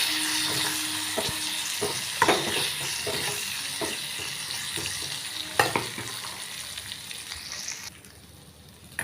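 Tempering of dried chillies, curry leaves and asafoetida sizzles and crackles in hot oil for mango rasam, with steady frying hiss, a few sharper pops and a quieter tail at the end.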